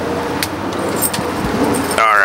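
Dropped keys jangle briefly and loudly at the very end, over a background of car and road noise, with people talking nearby.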